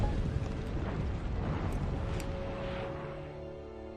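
Cannon fire in the Empire: Total War strategy game, heard as a loud, continuous rumbling roar of overlapping booms that slowly tapers off, with no voices.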